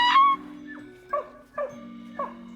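Hunting dog pursuing a young roe deer, giving a series of high yelping whines and short bays, four or five bursts at a nearby distance with a faint steady hum beneath.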